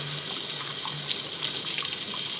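Water rushes steadily from an opened test cock on an RPBA backflow prevention assembly, a continuous broadband hiss and gush held at full flow, with no voices.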